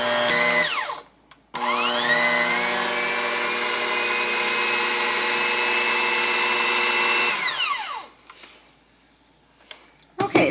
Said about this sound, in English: I'm just going to use the mixer for probably another 30 seconds